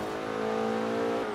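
Porsche 944 Turbo with a front-mounted inline-four engine revving in a driving game, a steady, harmonic-rich engine drone holding pitch with a slight rise near the end, loud and continuous with no talk.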